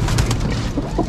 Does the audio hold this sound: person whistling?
no